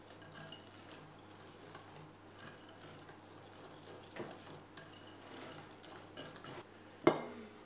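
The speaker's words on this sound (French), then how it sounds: "On va bien remuer." A spoon scrapes and clinks against a saucepan as a cake mixture with cornstarch is stirred, quiet and intermittent, with one sharper metallic clink near the end.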